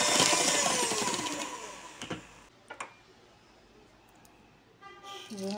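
An electric hand mixer whirs loudly as it beats eggs and sugar into batter for an apple and cinnamon cake, then fades to a quieter hum with a few short clatters and a brief rise near the end.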